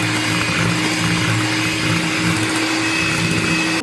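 An electric beater runs steadily at high speed, whipping eggs with sugar for a plum cake batter in a bowl, making a loud, even motor whine with no pauses and no talking.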